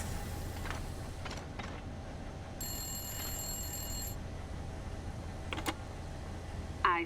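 An old telephone in a video game rings once in a sustained electronic trill, heard over a steady low hum with a few soft clicks and taps around it.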